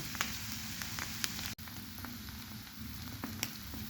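Liver for a pie filling stews in a pan with a soft, steady sizzle and scattered small crackles, quiet and continuous with no voices.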